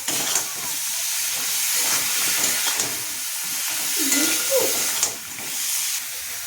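Onion paste hits hot oil in a pan of spiced prawn masala, giving a steady broadband sizzle and hiss that runs throughout at close range, with brief clinks of a utensil.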